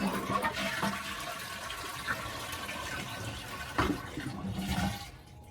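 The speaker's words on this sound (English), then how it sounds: "This tank takes 9 of these Folger cans to get up to the water line to get a good flush." Water poured from Folger coffee cans into a toilet tank during a power outage, a steady close gush and splash of filling liquid with a few sharper clunks and surges, no talking.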